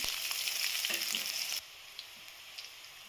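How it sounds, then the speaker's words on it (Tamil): Crushed garlic and onion sautéing in a pan for mango rice give a dense crackling sizzle that suddenly drops to a faint hiss halfway through, with a few small pops after. "அடுத்து ஒரு பூண்டு நான் இடித்து வச்சுருக்கேன் ஃப்ரெண்ட்ஸ், இதையும் சேர்த்து வதக்கலாம்."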